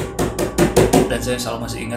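A speaker mimics knocking on a glass window, four or five brisk taps in quick succession, close up, followed by talk.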